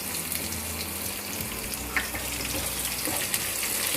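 Onions and green chillies frying in a pan for bread upma, a steady broadband sizzle that holds evenly throughout with a couple of small pops near the end.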